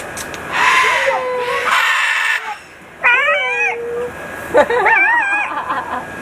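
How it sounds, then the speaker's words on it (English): A bird at an alligator farm in St. Augustine, Florida lets out loud, harsh screeching cries in several bursts, close by, with people's voices and outdoor chatter between the calls. "People have been screaming at that bird. That's why he screams all the time."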